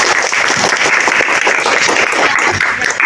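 Classroom of elementary students breaking into steady, dense clapping for a classmate named Amin, loud and continuous for the whole stretch with no talk over it.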